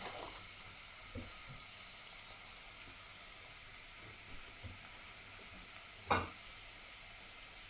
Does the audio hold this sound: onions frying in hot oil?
yes